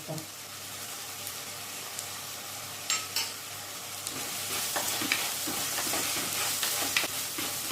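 Onions sautéing in a pan for a Kerala-style chicken and jackfruit biryani, a steady close sizzle and fry hiss with occasional scraping stir clicks, no voices.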